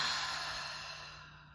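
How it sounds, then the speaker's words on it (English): A deep cleansing breath drawn in and slowly let out as a long, soft sigh-like exhale, close and alone, gradually fading over about a second and a half. "that's called a cleansing breath"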